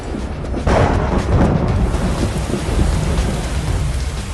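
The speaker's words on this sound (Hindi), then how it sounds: "तूफान का कहर थमने का नाम नहीं ले रहा है।" Heavy rain pours steadily in an animated stormy scene, with a deep rumble of thunder swelling early on and rolling on beneath the constant downpour, loud and close throughout with no voices.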